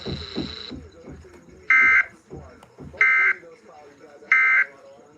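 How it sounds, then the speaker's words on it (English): National Weather Service weather radio warning alarm tone during a test: three loud, steady electronic beeps, each about a third of a second, spaced roughly evenly, following a brief burst of tone and a broadcast voice. "the National Weather Service has just activated the public warning alarm tone"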